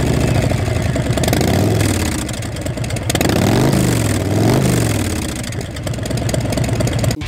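A Harley-Davidson Fat Boy motorcycle engine revs loudly up close, its deep V-twin rumble rising and falling through several throttle blips over a steady idle, with no talking.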